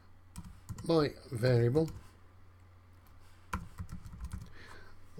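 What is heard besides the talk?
typing code on a computer keyboard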